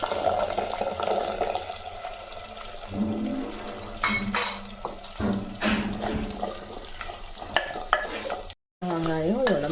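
Small onions (shallots) for kara kuzhambu tossed into hot oil and stirred, with a loud crackling sizzle, scraping and clattering strokes, and a brief break near the end.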